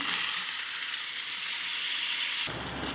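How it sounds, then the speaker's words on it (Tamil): Boiled mutton goes into a pan of onion-tomato masala and fries with a loud, dense, steady sizzle that drops sharply just before the end. "இப்போ மட்டனை இதில் ஆட் பண்ணிடுவோம்"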